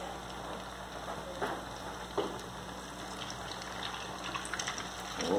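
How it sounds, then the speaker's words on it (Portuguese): Homemade churros frying in oil, a soft, steady bubbling fizz with scattered small pops and crackles, fairly quiet and continuous throughout. "bora fritar nosso churro"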